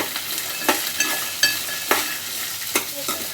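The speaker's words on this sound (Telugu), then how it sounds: "మంచిగా గోలాలి పల్లీలు" Dry peanuts rattling and scraping in a pan as they're roasted and stirred, with a few sharp clinks of the spoon striking the metal at irregular intervals.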